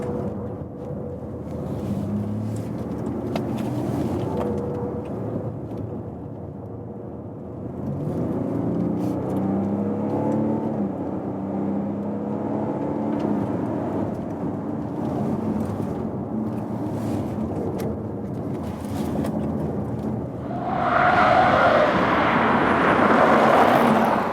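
A BMW X4 (G02) is driven hard through a series of corners, its engine a steady, fairly loud drone that rises and falls with throttle and swells into a stronger rev near the end, with no talking.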